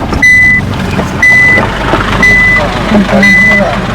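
A car parking sensor gives four evenly spaced, sustained beeps inside a Dacia driving off-road toward a Greek beach, loud and close over a low engine hum.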